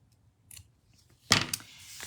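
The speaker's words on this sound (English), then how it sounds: "we don't need this much twine, so I'm just going to cut it" Scissors cut through craft twine while a topper card is being made, a single crisp snip burst that is brief and fairly close, followed by a few fainter rustles.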